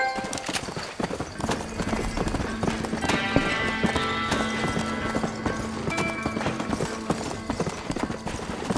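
Horse hooves clip-clop at a steady gallop while riding in Red Dead Redemption, loud and continuous over layered game music and ambience.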